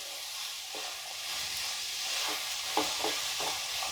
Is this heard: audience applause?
no